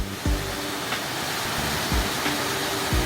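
Yukdam Falls, a waterfall over 40 metres high in the lower Towanggol valley of Seoraksan, gives a steady, dense roar of falling water, close and continuous, with soft low thumps rising through the rush.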